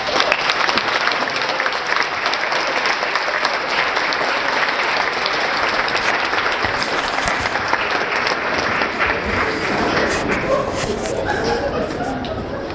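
Loud, sustained applause from a conference audience welcoming a speaker, dense and continuous for the whole stretch, with faint chatter and a little laughter mixed in, easing slightly near the end.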